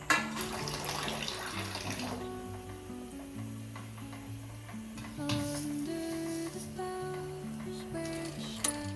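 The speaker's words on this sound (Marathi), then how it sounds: "ह्या मच्छीला आता पाण्यात टाकायचं" Dried sukat fish is rinsed under running water in a kitchen, a continuous close splashing and trickling that sits beneath steady background music.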